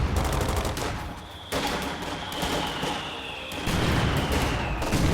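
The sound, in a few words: MG42 machine gun fire in video game Company of Heroes 2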